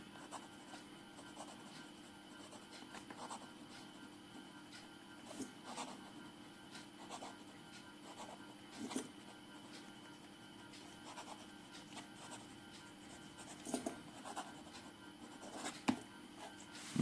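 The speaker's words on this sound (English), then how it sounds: "Now some fast writing." A HERO 329 fountain pen with a fine nib writes quickly on paper, giving soft, close scratchy strokes in an irregular rhythm over a faint steady background hum.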